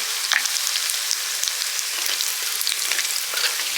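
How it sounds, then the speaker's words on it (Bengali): Dried red chilies and cumin seeds tempered in hot oil left from frying shrimp, giving a continuous close crackling sizzle with fine spattering pops throughout, no talking. "চিংড়ি মাছ ভাজার করায় ফোড়ন দিয়ে দিচ্ছি শুকনো লঙ্কা জিরে"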